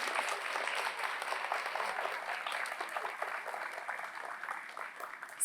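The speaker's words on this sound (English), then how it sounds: "Can we have a nice round of applause for her?" Sustained applause from an audience at a school arts night, steady and fairly even throughout with dense overlapping claps, heard alone without speech.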